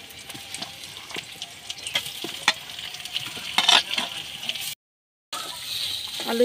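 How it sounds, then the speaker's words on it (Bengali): Diced potatoes sizzle and scrape in a pan with ginger paste and chopped green chilli while being stirred for a Bengali aloo paratha filling, a steady close fry with repeated clattering stirs and no talk. "আলুগুলো দিয়ে দেবো"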